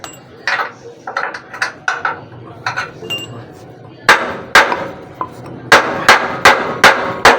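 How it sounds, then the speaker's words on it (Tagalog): A hammer strikes a screw set into a motorcycle clutch part: sharp metallic taps, quick light blows at first, then heavier, evenly spaced whacks, loud and close. "Pukpukin mo. Pukpuk. Lagyan yung tornilyo."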